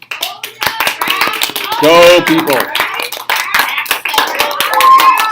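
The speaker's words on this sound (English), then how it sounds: "Could I have a round of applause for the human population," Classroom applause from students, a burst of scattered hand claps mixed with chatter and a voice calling out, continuing under ongoing speech throughout.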